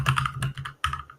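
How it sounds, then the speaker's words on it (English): Loud computer keyboard being typed on, a quick burst of clattering keystrokes, a short pause, then another flurry, close and alone. "And whilst Jordan is keyboard warrioring, on his really loud keyboard"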